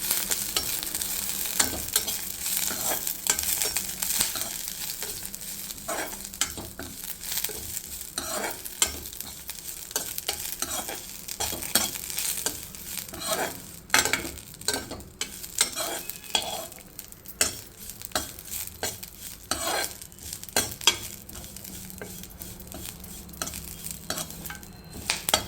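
Curry leaves and spices frying in a hot pan, a continuous crackling sizzle broken by frequent spatula scrapes and stirring clatter, close and fairly loud, no speech.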